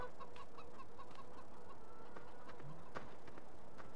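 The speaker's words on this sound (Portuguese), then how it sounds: "As galinhas tá na produção total." Chickens cluck softly and repeatedly around a henhouse in the farming video game Farming Simulator 15, faint against a quiet game background with no voices.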